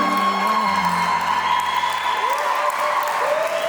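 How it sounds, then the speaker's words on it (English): Wedding reception guests applaud the couple with steady, close clapping and a few cheers, blended with music and a host's voice. "Everybody give them a big round of applause"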